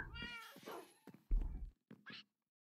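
A cat meows several times indoors, short close calls with gaps between them, and a few soft knocks and thumps around them.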